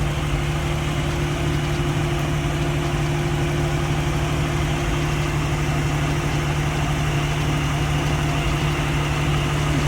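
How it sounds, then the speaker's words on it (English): A car engine idles steadily and quietly after a full engine refresh, a constant low hum with an even mechanical drone that carries on with no talking and no change in pace. "Mainit pa makina ng konti. Okay. Tahimik ng idle."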